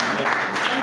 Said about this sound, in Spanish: Un aplauso para Emma Marino acá en La Plata, barrio de España